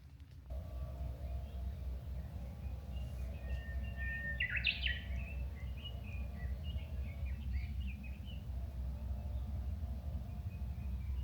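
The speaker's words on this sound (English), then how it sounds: "Hearing the different birds" Birds chirp and trill faintly during a hike on Miyajima, with a short burst of song partway through over a steady low outdoor rumble.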